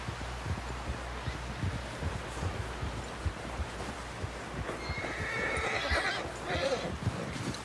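A horse whinnies loudly near the end of a Red Dead Redemption 2 scene, preceded by steady hoof clip-clops and rustling in the background.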